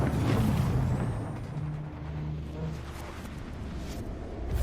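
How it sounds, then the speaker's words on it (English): A spaceship's quantum drive engaging in Star Citizen gives a loud, dense rumbling whoosh with a low hum, easing slightly in the middle and then swelling again, with no voices over it. "Quantum drive is now on."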